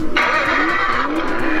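A child's ride-on toy car, one of several including a pink Mercedes, Mini Cooper and Lamborghini, powers up with a bright, sustained electronic engine sound effect over a low motor hum, close and fairly loud.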